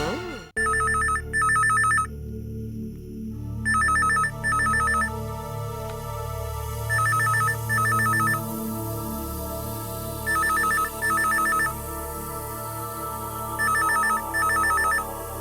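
A telephone rings inside a house in a Tamil TV serial scene, sounding in repeated double bursts of electronic bells, loud and close, with no talk over it.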